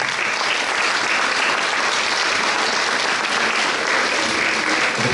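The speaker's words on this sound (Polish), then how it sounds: "Wielkie brawo!" A concert audience at an evening memorial music event applauds loudly and steadily, a dense, even roar of clapping from a large crowd that continues without a break.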